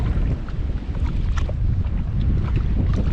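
Strong northerly wind blows across open water around a Sea-Doo Fish Pro fishing craft, a continuous heavy rumbling buffet with mic-wind roar and faint water wash, loud and unbroken, no voices.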